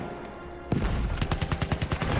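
Gunfire in the video game Battlefield 1: after a brief quiet start, loud rapid bursts and repeated shots crack out close by in an uneven, rattling rhythm.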